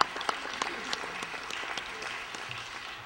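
An audience at a school board candidates' forum claps steadily for a few seconds, a dense patter of applause from a moderate crowd, fairly even throughout.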